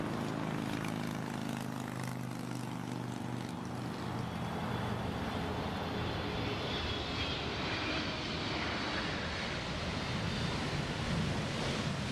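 An Ethiopian cargo plane's engines drone loudly as it lands in a strong crosswind, with a steady roar and wind rush and a faint rising whine as the engines throttle up.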